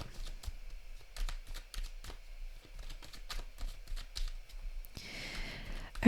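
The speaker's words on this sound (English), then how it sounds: "Let's shuffle it one more time and then we'll split the deck." Tarot cards riffled and tapped in short bursts, papery flicks and slaps repeating at irregular intervals, with a louder riffle near the end.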